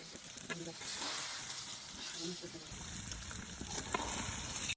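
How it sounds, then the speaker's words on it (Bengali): Hog plum pieces cooking in spices and sugar give a soft, steady sizzle with occasional stirring scrapes, faint and close, with a hint of a voice early on. "চিনি দেওয়ার পর ভালোভাবে মশলাগুলোকে কষিয়ে এরপর হচ্ছে আমড়াটা দিয়ে দিলাম"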